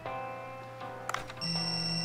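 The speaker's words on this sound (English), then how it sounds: "Oh, we got a phone call." A phone ringing in the Bancho Sushi game, with a steady electronic ring tone starting partway through and holding above soft background game music.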